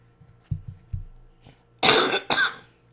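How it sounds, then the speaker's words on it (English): Two sharp, loud coughs in quick succession, close by, after a few faint throat noises. "Like a big cough."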